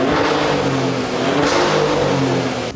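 A Maserati engine with new mid pipes revving hard in GT mode, a loud, sustained, throaty exhaust roar held steady close by, with no talk over it.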